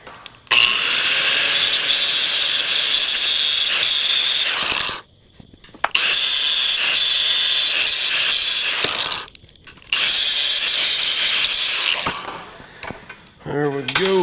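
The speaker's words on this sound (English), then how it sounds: "Now we just gotta weld them two together." Welding two bulldozer parts together, three long bursts of harsh crackling arc noise separated by short silences, close and loud.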